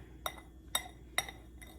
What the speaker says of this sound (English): we're just going to whisk it all together